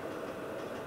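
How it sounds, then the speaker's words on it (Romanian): A passenger train runs slowly as it pulls into Rosenheim station, giving a continuous rumbling rail noise with a faint clickety-clack rhythm, close and steady, with no voices. "Trenul o să meargă încet și o să intre în gara din Rosenheim"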